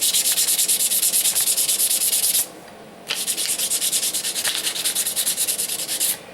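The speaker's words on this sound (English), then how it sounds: "I will just take a series of fine sandpapers and I'm going to take the coarse sand marks out" Fine sandpaper rubs briskly back and forth over a guitar nut, a loud, close, steady scratchy hiss in rapid strokes that breaks off for a brief pause before resuming.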